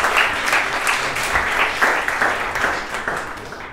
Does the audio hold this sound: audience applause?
yes